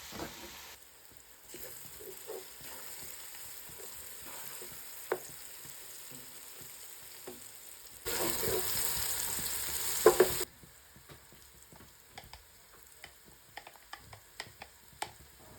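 Sliced onions, seven or eight of them, frying in oil for a chicken korma gravy. A soft, steady sizzle with small crackles runs throughout, and a louder burst of frying comes in partway through before it settles back down.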